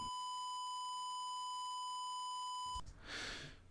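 An 8-bit digital audio signal truncated with quantization distortion: a steady pure electronic tone with buzzy harmonics that cuts off abruptly near the end, followed by a brief burst of noise.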